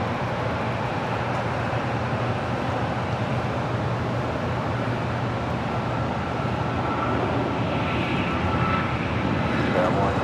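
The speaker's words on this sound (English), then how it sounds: "Cayman Airways flight 481 heading to Georgetown at a 737 MAX 8" Cayman Airways Boeing 737 MAX 8 departing Los Angeles airport, a continuous broad jet engine roar with low rumble, steady and fairly loud, heard from a distance.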